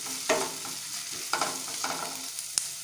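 Bottle gourd peel being stir-fried with mustard in a pan, a low sizzle under a few distinct stirring scrapes spaced about a second apart, with one sharp clink near the end.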